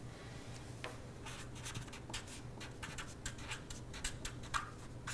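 A pen writes a cutting instruction on a paper pattern piece for a panel skirt, producing close, soft scratchy strokes in quick irregular bursts over a faint low hum.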